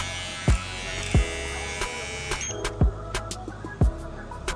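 An Ovlux electric hair clipper from a clipper and trimmer set runs with a steady, close electric buzz, broken by a few sharp handling knocks.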